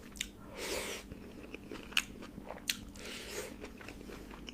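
Biting and chewing mutton curry pulao up close, soft wet chewing punctuated by a few sharp crunchy bites, quiet and alone with no talk.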